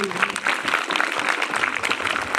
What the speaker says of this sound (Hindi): मेरे लिए तालियां बजा दो